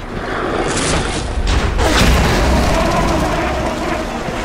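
A bomb thrower's explosion in BioShock, a loud, broad boom that swells and rumbles on for several seconds, with scattered debris and crackle under it.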